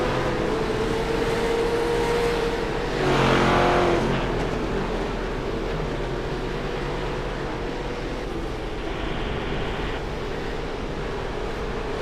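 V8 race cars from the V8 Veterans series at Silverstone roaring past, a steady engine drone with a louder surge as a car sweeps by, heard alone without talk.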